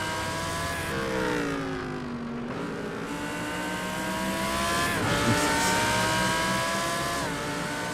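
Race cars, including an Aston Martin, in the iRacing sim, with steady engine drone and harmonics sweeping down then up as several cars lift and accelerate close together, loud and continuous with no talk.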